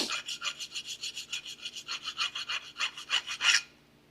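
Square file rasping rust off a rear brake part on a 2021 Genesis G70, about twenty quick, even back-and-forth strokes, close and fairly quiet, ending with one harder stroke and then silence.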